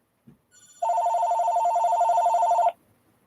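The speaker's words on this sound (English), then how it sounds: "phone call." A telephone rings in a single sustained burst of rapid electronic trilling, loud and close, after a few faint clicks, then stops abruptly into near silence.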